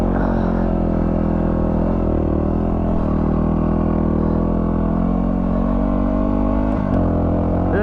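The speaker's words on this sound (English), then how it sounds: "Bike's bogging down. A little 250, man. It actually almost doesn't have enough power to get through this sand." A 250 dirt bike engine bogs and strains in third gear through soft, chopped-up sand in the Simpson Desert's Little Desert, a loud, steady low drone with harmonics that barely rise, as if labouring for power.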